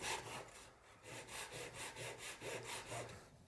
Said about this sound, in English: it's nice to be able to just precisely do something with a saw